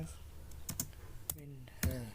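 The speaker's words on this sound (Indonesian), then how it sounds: "Langsung saja ketikkan df" Fingers tap out a short Linux terminal command on a computer keyboard in a few quiet, separate clicks. A voice speaks briefly between the keystrokes.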